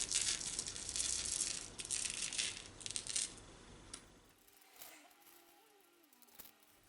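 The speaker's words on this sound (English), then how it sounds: "Okay, so now I'm going to add some of the gold chips." Gold chips poured and sprinkled into resin make a dense, crinkly rattling shower for about four seconds, then the sound thins out to faint scattered ticks.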